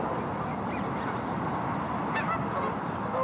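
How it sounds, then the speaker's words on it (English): Geese honk a few times in the distance over a constant rushing wash of water noise from a freezing river on a cold day. "We've got our freezing river and our nice tropical geese and ducks"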